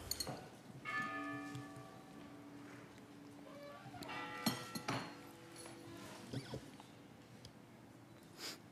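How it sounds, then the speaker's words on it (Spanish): Church bells ring at a distance, their tones sustained and overlapping, with faint clinks and rustles mixed in over a quiet room background. "¿No quedan más campanas?"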